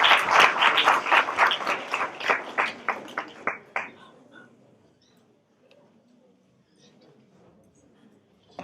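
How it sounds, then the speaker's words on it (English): Applause from an audience of first-year students, starting loud with quick claps that thin into a few slower, separated claps and die out by about four seconds, followed by faint room murmur. "Give them a round of applause."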